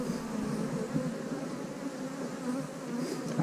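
Dense, steady buzzing of many honeybees up close on a hive frame from a two-frame nuc with a new queen, a continuous droning hum with no speech.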